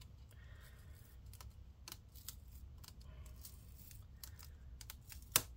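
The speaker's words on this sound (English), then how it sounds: "Would separate this frame, this bezel," A plastic bezel is pried off the front of a Lenovo ThinkPad T440 laptop, giving small, close clicks and creaks, then one sharp snap near the end.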